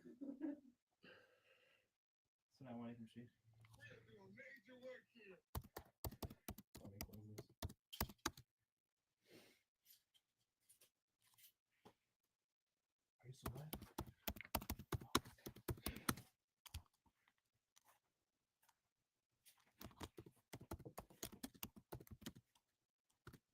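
Slow, intermittent typing on a computer keyboard comes in sparse bursts of clicky keystrokes separated by long quiet gaps, close and fairly faint, with some breathing-like noise at the start.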